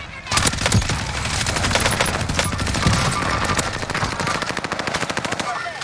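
Rapid automatic gunfire rattles through a Warzone battle royale match, dense bursts of shots running almost continuously near and loud, with a faint voice briefly underneath.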